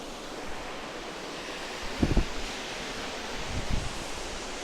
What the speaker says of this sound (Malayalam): അപ്പം കണ്ടല്ലോ, മനോഹരമായ വാട്ടർഫാൾ